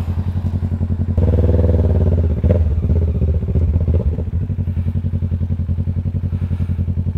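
A motorcycle engine putters nearby on a ride through Pililla, Rizal. It gives one brief surge of revving early on, then settles back into an even, pulsing idle.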